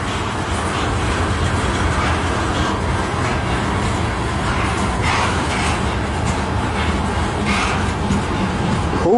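A CN 385 southbound freight train rolls past at Port Huron, Michigan, a steady, loud wash of wheel and rail rumble with faint clatter that holds evenly from start to finish, no voices over it.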